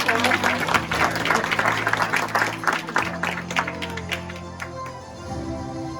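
A room full of people clapping steadily at a children's martial arts event, with voices murmuring underneath, the applause tapering off toward the end.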